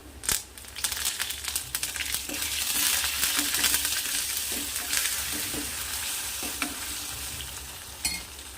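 Garlic, green chillies and curry leaves sizzle and fry in a pan, with steady crackling broken by scraping stirs and clinks throughout, fairly quiet and with no talk.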